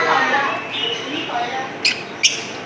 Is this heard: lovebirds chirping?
yes